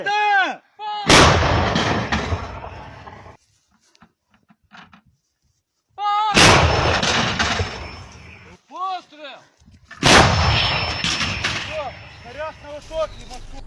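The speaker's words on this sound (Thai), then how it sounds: "เป็นลูกปืนใหญ่ 155 มม ที่ฝั่งยูเครนเขาโจมตีขบวนรถของรัสเซีย" Three heavy 155 mm artillery blasts, each a sharp loud boom followed by a rumbling roar, spaced a few seconds apart, with brief shouted voices between them.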